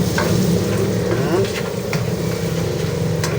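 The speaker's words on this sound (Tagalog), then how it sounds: "diyan po sa ating same pan, maglagay po tayo ng ganyan lang po kalaki na margarine or butter" Margarine or butter melting and sizzling in a frying pan, a steady close frying hiss with faint stirring scrapes, continuous throughout, while someone talks over it.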